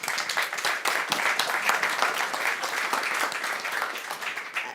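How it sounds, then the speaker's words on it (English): A conference audience at a health policy talk gives a sustained round of applause, many hands clapping densely and evenly at moderate volume, unbroken and without speech. "Dorothee Brackmann, that's your applause"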